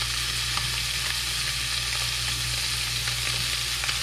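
Hybrid striped bass fillet searing in a hot pan, a steady loud sizzle with faint crackles and pops throughout, no voices.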